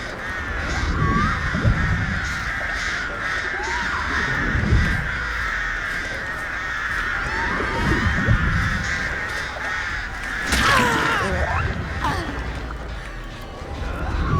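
Crows summoned by the Artist killer in Dead by Daylight caw repeatedly throughout, a dense, overlapping chorus of harsh calls that swells into a louder burst near the end.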